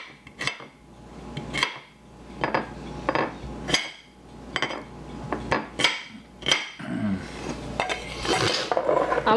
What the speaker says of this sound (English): Now I'm going to chop this one